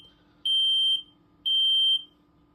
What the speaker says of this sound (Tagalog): Then, nag-alarm po yan.